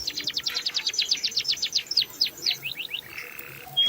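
A goldfinch sings a quick run of bright, high chirps in a fast, even rhythm that slows and breaks into scattered notes near the end, fairly close and clear.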